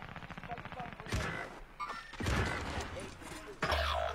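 In-game airstrike explosions and gunfire sound as heavy booms and crackling shots in several loud bursts, with players talking over the top.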